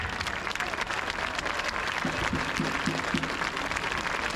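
Crowd applause at a rally in honour of suspended staff such as caregivers and firefighters, a continuous even patter of many hands throughout, with a brief tonal sound in the middle.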